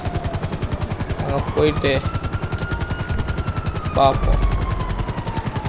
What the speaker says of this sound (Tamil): helicopter ஓட்டுறதுலாம் escape bro guys